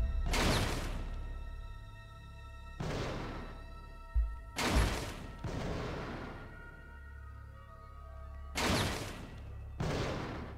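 Gunfire from the video game Fahrenheit: three loud, sharp shots spaced a few seconds apart, each followed by a long reverberant tail, with low rumbling in between and no talking.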